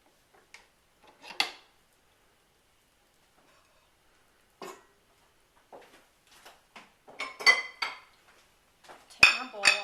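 A beater and metal bowl being removed from a stand mixer, heard as scattered light clinks and knocks that grow busier and louder toward the end, with a sharp metallic clank near the close.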